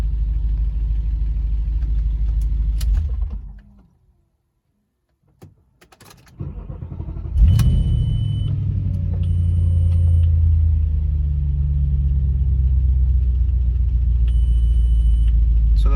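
An Audi B7 RS4 engine idles with a low rumble, cuts off into near silence, then restarts with a sharp crank and settles back into a steady idle.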